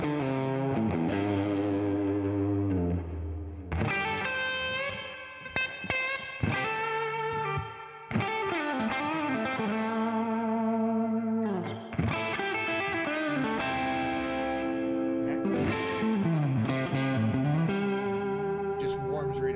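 Harley Benton TE-52 electric guitar on the bridge pickup through distortion, playing a loud, continuous run of crunchy riffs and sustained chords with no one talking.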